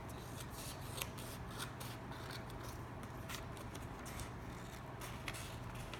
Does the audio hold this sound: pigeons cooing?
no